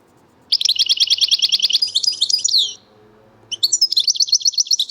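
An Algerian songbird sings the leg leg note, loud and close: a fast run of repeated bright chirps, a brief pause, then another quick burst of the same note.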